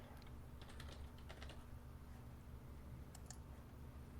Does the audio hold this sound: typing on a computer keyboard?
yes